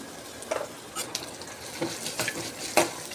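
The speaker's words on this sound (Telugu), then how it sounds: "పోపు వేగిపోయిందండి ఇంగువ వేసుకుంటున్నాను" Oil sizzles steadily in a pan as mustard seeds, dried red chillies, ginger and asafoetida temper, while a spoon stirs and scrapes at the metal several times, close and clear.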